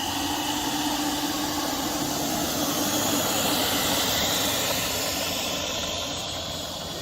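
A jet aircraft engine in a flight video game spooling up, a loud, steady roaring hiss that holds for several seconds and eases slightly at the end.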